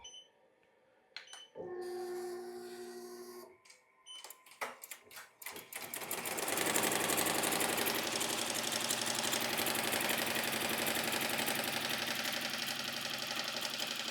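An embroidery machine starts up after a few clicks and beeps, then settles into a fast, steady mechanical chatter as it stitches a placement line on vinyl, close and continuous to the end.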